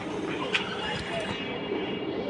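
Racing high-flyer pigeons coo steadily at close range amid background chatter and a busy, noisy setting, with one brief sharper sound near the middle.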